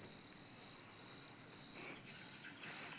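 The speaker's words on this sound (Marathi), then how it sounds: "पावसाची किडे लईच परेशान करून राहिले हो." Rainy-season insects chirp in a steady, high, continuous trill at night outdoors near a rural farm home. The chorus is faint and unbroken throughout, with no voices.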